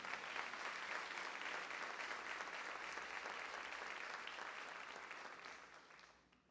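A church congregation applauding together, dense sustained clapping from a large crowd that holds steady and fades toward the end.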